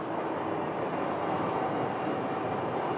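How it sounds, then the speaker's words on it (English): An airliner landing on runway 26 at Phoenix Sky Harbor, a steady broad jet roar that holds even and fairly loud across the whole stretch, with no pause or voices. "we have runway 26 landings right in front of us here"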